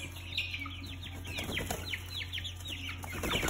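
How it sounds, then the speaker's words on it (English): Young layer chicks growing into pullets cluck and chirp close by, a steady scatter of short calls over a constant low farm hum. "new layer chicks."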